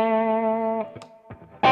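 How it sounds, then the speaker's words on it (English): Parker Fly electric guitar with both pickups and coil tap engaged, played through effects: a sustained distorted chord rings, then a few short plucked notes and a sharp strum. "Sounds great when you have both pickups on and coil tap, but it's more strat-like."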